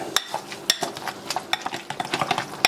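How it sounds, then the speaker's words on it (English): Cooked sweet potato with cinnamon, honey and black pepper mashed in a bowl, heard as a quick series of close soft thuds and metal taps from the masher, irregular and steady throughout. "we're just going to mash this all up."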